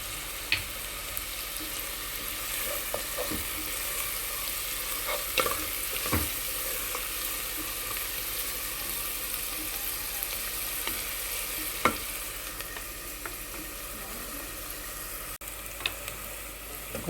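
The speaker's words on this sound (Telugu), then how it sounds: "ఉల్లిపాయలు చక్కగా వేగనే ఉంది." Onions and green chillies with a little salt frying in a pan for a palm-fruit curry, a steady soft sizzle with occasional stirring clicks and scrapes, no talking.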